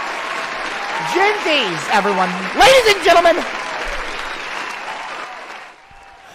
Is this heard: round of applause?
yes